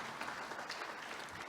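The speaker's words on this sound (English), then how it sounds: "another round of applause for the conference chairperson" Applause from a conference audience at a young directors forum, honouring the chairperson: a dense, steady wash of many hands clapping for the whole stretch, fairly even in loudness with no voices over it.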